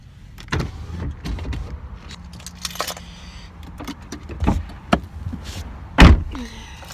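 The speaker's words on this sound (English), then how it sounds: "I'm gonna turn down the window." A car's power window motor whirs as the window lowers, mixed with clicks, taps and thumps from inside the car, loud and close.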